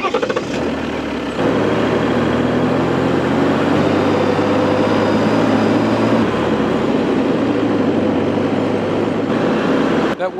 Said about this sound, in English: I'm gonna shift into four low and go up this hill in four low.